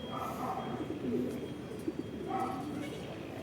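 A blue bar racing pigeon coos in soft, low repeated phrases close by, with faint outdoor background noise.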